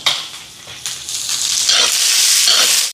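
Tempering of garlic and curry leaves sizzles loudly in a hot pan, a bright continuous frying hiss that swells after a couple of quick stirring scrapes, close and with no voices.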